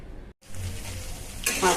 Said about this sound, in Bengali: ফোড়ন দিয়ে পেঁয়াজ কুচি দিয়ে দিলাম